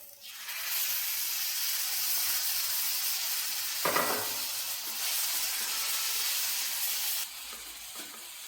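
A loud, steady hiss and sizzle rises as half a cup of water hits hot tomato masala with potatoes in a pan, with a brief stir or clatter partway through, close and without speech.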